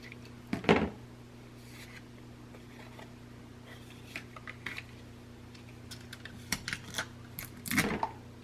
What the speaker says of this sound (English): I'm going to cut that extra off.